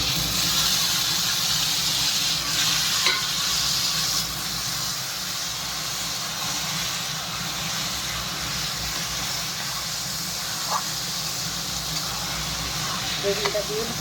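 Roasted, fire-charred eggplant dropped into hot spiced oil for a Bengali begun bharta, giving a steady, loud, continuous sizzle and hiss with faint scraping of a spatula throughout.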